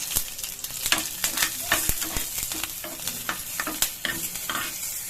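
Green chillies frying and being stirred in a pan, with a steady bright sizzle broken by frequent sharp scrapes and clatters of a spatula against the pan, close up and without speech.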